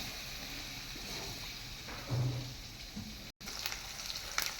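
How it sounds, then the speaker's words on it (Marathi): Paneer frying in hot oil for a restaurant-style paneer curry, a steady broadband sizzle close by with brief louder bursts as pieces shift, a short dropout near the end. "तर बघू शकताय मी तेलामध्ये पनीर हे करून भाजून वगैरे घेते"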